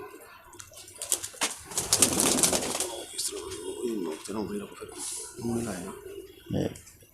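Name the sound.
Sialkoti pearl-eyed pigeon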